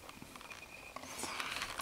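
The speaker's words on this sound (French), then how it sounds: "j'entends que ça pleut sur la voiture" Soft, continuous patter of rain on a car roof, a steady fine tapping with occasional louder drops, no voices.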